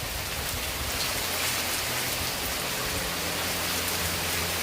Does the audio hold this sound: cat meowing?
no